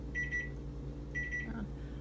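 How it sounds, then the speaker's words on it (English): A kitchen timer beeps as meatloaf cooks, giving two short bursts of rapid high beeps about a second apart over steady low background hum. "Timer's going off."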